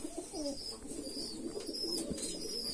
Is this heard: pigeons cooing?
yes